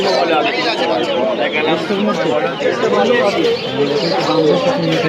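Crowded pigeon stall at the Santipur market, with a dense, steady murmur of buyers and sellers haggling over scattered bird coos and faint wing flutters, everything mixed close together and continuous.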